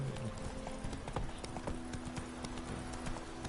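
A horse in The Witcher 3 game sets off at a gallop, hooves clip-clopping in a rapid steady rhythm, clear and close, with faint background sound.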